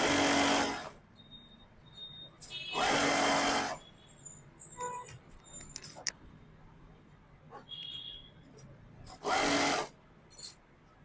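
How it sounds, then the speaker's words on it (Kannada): A sewing machine stitching a dress with boutique-style finishing: three loud, steady whirring runs of about a second each, separated by quieter pauses with light handling noises and clicks. "ಸ್ಟಿಚ್ ಮಾಡ್ಕೊತಾ ಬನ್ನಿ"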